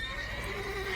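A horse neighs in The Witcher 3 video game, a faint, brief whinny over a bright, steady game ambience.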